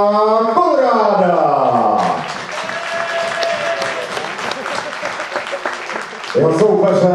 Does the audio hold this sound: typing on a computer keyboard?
no